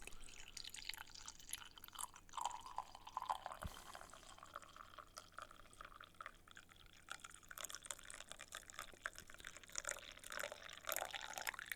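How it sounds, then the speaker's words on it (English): Hot coffee poured into a coffee cup gives a steady, close trickling and splashing of liquid that runs the whole time, with brief drips and faint clinks and no talking. "the beginning sound of coffee getting poured"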